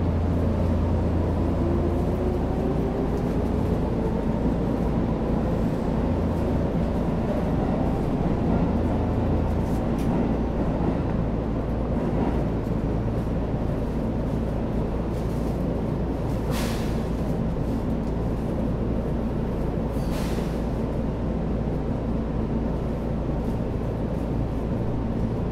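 Interior running sound of a Shinkeisei Electric Railway Series 8900 train, first-batch set 8918F with renewed VVVF inverter control, a steady loud rumble of wheels and motor with a faint rising whine and occasional brief clicks.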